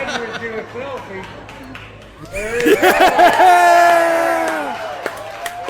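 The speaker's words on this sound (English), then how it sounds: "Listen to the cheer. Listen to the cheer, genuinely." A crowd bursts into excited cheering and whooping partway through, loud and close, after a stretch of scattered voices and chatter.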